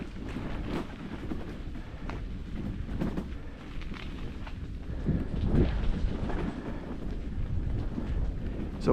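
A CN freight train rolls along the Graham Subdivision, its rail cars producing an uneven clickety-clack with rumbling and some wind buffeting, heard from close by without any talking.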